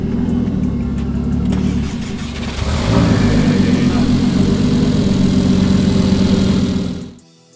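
A tuned Stage 2 Mercedes CLA 250 engine starts, settles into a steady idle, revs up louder around the middle and then cuts off abruptly.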